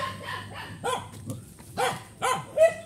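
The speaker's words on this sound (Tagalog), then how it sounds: "Maraming aso." Several dogs bark in short separate bursts along an overgrown rural path, five or six yaps spaced irregularly, moderately close and fairly quiet.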